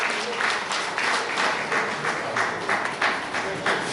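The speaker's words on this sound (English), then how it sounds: "Please, can you give him a round of applause?" An audience at a union zonal delegates conference applauds an awardee with sustained, fairly loud clapping in waves throughout.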